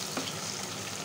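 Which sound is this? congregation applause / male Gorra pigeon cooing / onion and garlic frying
onion and garlic frying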